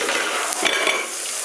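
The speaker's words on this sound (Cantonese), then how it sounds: "咁我又係拎佢炸" A steady hiss of hot oil frying food, close and continuous, with a few soft clinks of utensils.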